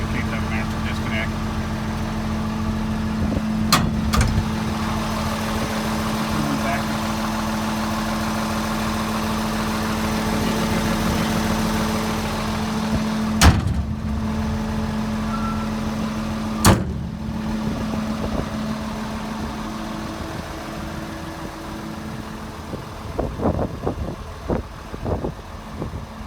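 A Volvo EC300E long reach excavator idles with a steady low engine drone throughout, with a couple of sharp knocks and some clattering near the end, and a person talking over it.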